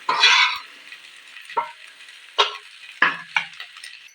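Dried prawns frying in hot oil, a sharp sizzle at the start followed by several separate scraping stirs of a spoon against the pan, each short and close, with quiet gaps between them.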